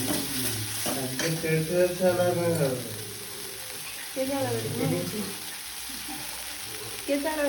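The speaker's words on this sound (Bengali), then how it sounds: "একটু লবণ দেওয়া হলো, ভালো করে মিশিয়ে নেওয়া হচ্ছে" A spoon stirs salted Rui fish kalia masala in a pan over a steady oily sizzle, with soft scraping and occasional clinks, while a person talks over the cooking.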